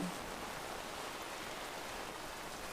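Heavy rain falls steadily during an outdoor Australian rules football match in Northern Territory Football League men's premier competition, a constant dense hiss with no break.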